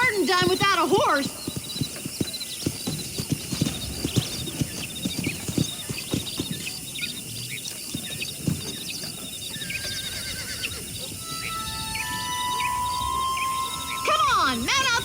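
Horse hooves clip-clopping at a steady walking rhythm with loud whinnies at the start and end, in a Rockstar Western video game with cattle herding, over crickets and an ambient hum, with people talking in between.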